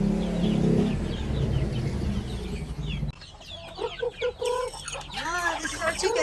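Native chickens cluck and murmur nearby in a Philippine farm setting, a series of short, close clucks with brief squawks over background noise and faint voices.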